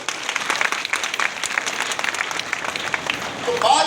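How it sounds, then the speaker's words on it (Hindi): Loud applause from a seminar crowd, dense clapping filling the room throughout and swelling toward the end, with a voice faintly mixed in. "ये जोरदार तालियां आपके लिए।"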